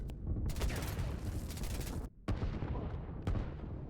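Rapid bursts of gunfire rake a sneaking unit in the Line War strategy game, loud and dense throughout with a brief gap near the middle and sharp shots cutting in afterward.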